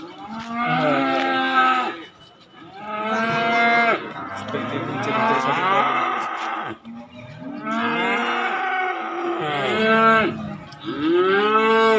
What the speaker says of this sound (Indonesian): ini ada sapi Bali